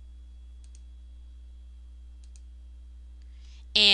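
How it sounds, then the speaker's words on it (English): Computer mouse buttons clicking in Dreamweaver CS3, a few sharp double clicks spaced apart over a quiet electrical hum, followed by the onset of a voice. "click this button to move it over, click another font and another"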